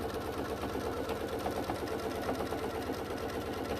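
A sewing machine stitching a bag at a fast, steady speed, its needle producing a rapid even mechanical chatter heard up close with no talking.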